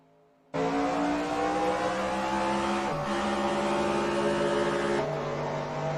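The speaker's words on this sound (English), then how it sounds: "You could hear there his car hung for a little bit after where he would have been in 2nd gear, and then you hear the low RPMs" A race car engine in a Winston Cup stock car racing video game hangs in gear at low RPM after the green flag, a loud steady droning note that holds, dips briefly, then settles back into the same low hum.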